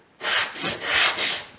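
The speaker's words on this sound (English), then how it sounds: "what I do is use a piece of sandpaper" Sandpaper rasps against a hard injection mold surface to remove burrs, in a few quick back-and-forth strokes, close and moderately loud, with no voices.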